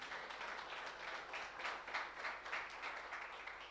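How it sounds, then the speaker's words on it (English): Faint, distant applause from a crowd, a steady wash of many hands clapping together. "Give yourselves a round of applause for allowing yourself to dream."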